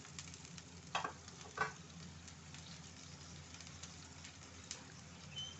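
Onions sizzling gently in a pan for a paneer gravy, a soft steady crackle of frying with a few light scrapes of slow stirring, fairly faint.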